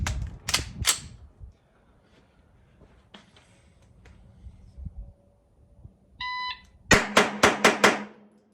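Rock Island Armory 5.0 pistol shots at a range: two or three sharp loud cracks at the start, a quieter stretch with a brief beep, then five rapid close shots in quick succession.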